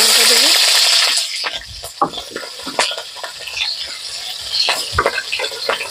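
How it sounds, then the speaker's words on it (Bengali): Green chilies hit hot oil in a heated wok, bursting into a loud sizzle that settles into crackling spits and pops, with light metal scrapes scattered throughout. "কড়া গরম হয়ে গেছে, তেল দিয়ে দেবো প্রথমে। তেলে একটু কাঁচা লঙ্কা দেবো"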